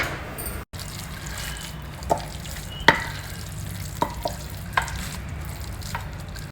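Cooked khichdi being served, with soft stirring and scraping of a spoon through the thick rice-and-lentil mix, a few light clinks and taps of utensils against the pot or plate, moderately near and without voices.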